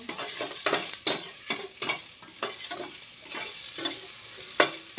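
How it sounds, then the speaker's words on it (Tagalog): Maya-maya fish sautés with ginger in a hot pan, with a bright sizzle under a regular series of loud, close scraping stirs, roughly two each second. "Sa luya ko lang muna siya igigisa."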